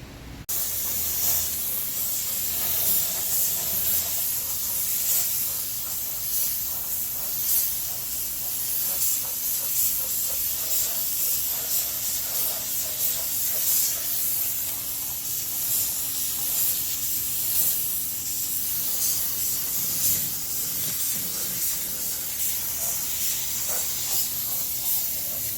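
Denatured alcohol sprayed onto a truck bed liner gives a continuous close airy hiss that holds steady for the whole stretch, with faint pulsing and a low background rumble.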